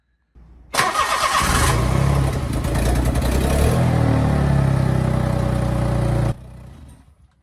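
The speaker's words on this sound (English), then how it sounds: "I guess I better get the cold start before." Honda Z GF-PA1 engine on a cold start with its stock exhaust, cranking briefly and then catching into a loud, steady idle close to the microphone for about five and a half seconds before shutting off.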